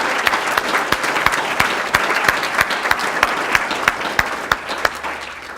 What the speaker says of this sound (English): let us give him a round of applause for the many years of service he's given our county